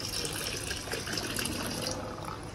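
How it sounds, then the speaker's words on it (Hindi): Water pours steadily over sand to cover it, a loud, continuous gushing splash that fills the whole stretch without voices. "सही पानी डालना है अपन को, ताकि ये अंदर बस इसको कवर कर ले बस।"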